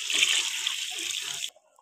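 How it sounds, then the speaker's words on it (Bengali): Water poured into a pot of chicken curry made with a whole red rooster, a steady close hissing splash for about a second and a half that stops abruptly into silence. "এবার দিয়ে দেবো পরিমাণ মতো জল।"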